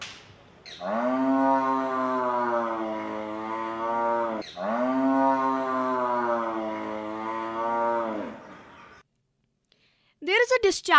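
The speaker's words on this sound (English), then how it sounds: "Frequent bellowing is exhibited by cow." A cow in estrus bellows in two long, loud, drawn-out calls of about four seconds each, close to the listener, followed by a brief pause and a short burst of another sound.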